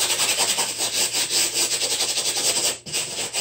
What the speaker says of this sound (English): I'm going to scrub it a little bit so it gets into the fabric.